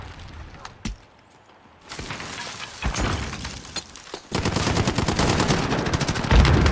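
Call of Duty team deathmatch gunfire: a few isolated shots ring out, then sustained rapid automatic bursts grow loud and dense, the rattling volleys nearby and crowding the later half.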